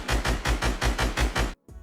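Fortnite gunfire as three teammates spray a wall at the same time: a loud, fast string of about eight evenly spaced booming shots, then a short silence and a fainter trailing burst.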